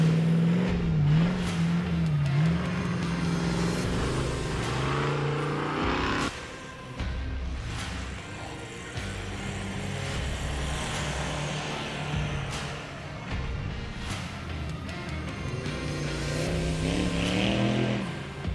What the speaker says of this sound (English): the checkered flag will be flying for Duane Garrettson, number 26 in that Ford Bronco